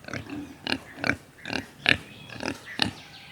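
A cartoon pig grunts in a series of about seven short, snorting oinks, evenly spaced and fairly faint, with no talking over them.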